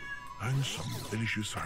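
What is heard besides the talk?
pet cat meowing to go outside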